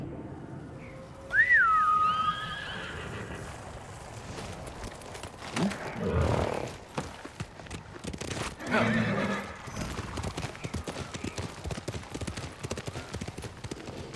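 A horse in the Ghost of Tsushima video game gives a loud, rising whinny near the start, followed by bursts of hoofbeats and clip-clop steps against faint game ambience.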